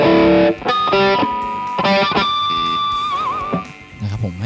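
Electric guitar harmonics played with the picking hand ring out through a distorted tone as a few short chiming notes, one held harmonic wavering with a bent vibrato before fading.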